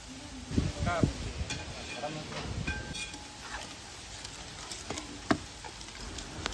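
Sliced onions frying in a pan and being stirred toward golden brown, a soft, fairly faint sizzle with occasional spoon scrapes and a sharp tap, under a voice talking intermittently near the start.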